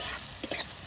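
Garlic dropped into hot oil in a pan for fried greens, a brief sizzle with quick stirring scrapes, close and short.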